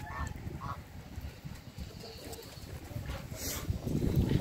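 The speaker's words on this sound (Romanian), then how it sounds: "Rațele." Ducks in a poultry yard shared with hens and roosters give a few faint quacks and honks at a distance, over steady outdoor background noise.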